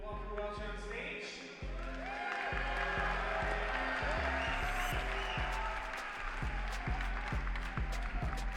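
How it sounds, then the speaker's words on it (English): An audience at a Rubik's cube speedcubing championship finals applauds a competitor taking the stage, the clapping and light cheering running beneath a loud, rhythmic thumping music bed. "Give him such a nice round of applause."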